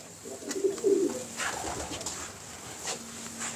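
Pigeon cooing outdoors, a few soft low throaty coos near the start, then quieter background with faint scattered clicks.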